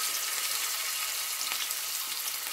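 Onions dropped into hot oil, frying for a dried shrimp and eggplant dish: a dense, steady bright sizzle and crackle, close and continuous with no pauses.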